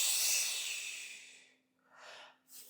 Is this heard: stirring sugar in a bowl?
no